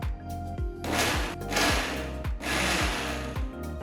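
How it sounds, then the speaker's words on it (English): A mixer grinder jar whirs loudly, grinding chopped ripe bananas into a smooth pulp. The motor runs in repeated pulses with brief stops and restarts, close and dominant. "Just chop the bananas and grind them into a nice smooth pulp using a mixer jar."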